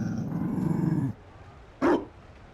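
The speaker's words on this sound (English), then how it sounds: "You found a dog?" A Mabari war dog in Dragon Age: Inquisition gives a loud, sustained low growl, then after a short pause lets out one sharp, close bark.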